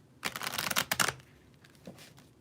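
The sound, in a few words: shuffling cards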